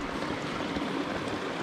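A small trout creek with a silty bed flows in a steady, close rushing wash with no breaks and no voices.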